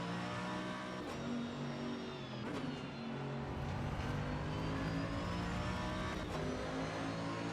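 Mazda MX-5 race cars in the iRacing sim, engines holding steady tones with gear shifts and revs rising and falling, a continuous close in-car drone.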